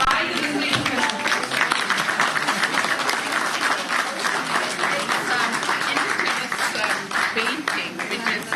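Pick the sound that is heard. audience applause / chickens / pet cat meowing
audience applause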